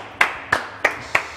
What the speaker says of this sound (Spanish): Ahí está, mirá, fuerte el aplauso.